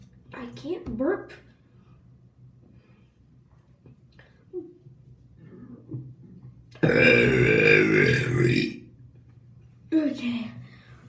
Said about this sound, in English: I can't burp.